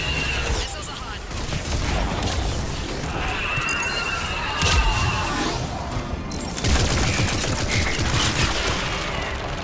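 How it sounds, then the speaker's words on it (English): Missiles firing in Mass Effect 3 during a battle near a temple, a dense, loud barrage of blasts and explosions with booming impacts and overlapping voices talking through the chaos. "Missiles are hot."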